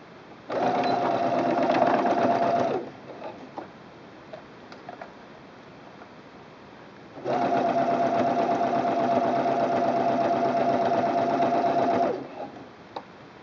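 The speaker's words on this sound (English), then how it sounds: "The next step is to sew the center back seam at 1/4 inch." Sewing machine stitching the centre back seam of a fabric wine bottle gift bag at a quarter inch, two steady close whirring runs of about two and five seconds with a quiet pause between, no talk.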